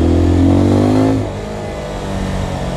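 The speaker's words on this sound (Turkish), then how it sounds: "Şanzımanı, şimdi vites geçişlerimiz önemli." A Zontes Phantom S 250 motorcycle engine revs high and steady, then its note drops suddenly as the rider shifts gear and settles into a lower, quieter drone.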